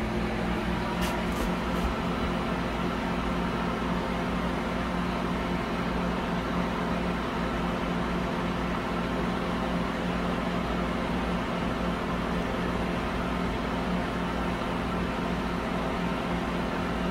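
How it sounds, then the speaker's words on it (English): Microwave oven humming steadily in an off-grid solar tiny house, a continuous mid-loud drone with fans and range hood running alongside, a few faint beeps near the start. "Let's start the microwave again."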